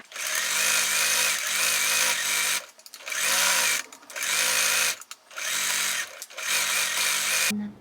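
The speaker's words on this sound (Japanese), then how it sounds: "表に倒して、こうレースを押さえるようにこうタクタクタクタクタクタク縫っていきます。" A sewing machine stitching lace onto fabric runs in four or five steady, fast whirring bursts of a few seconds each, separated by short pauses, loud and close with no talk.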